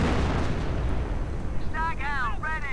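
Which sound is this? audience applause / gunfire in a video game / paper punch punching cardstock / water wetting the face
gunfire in a video game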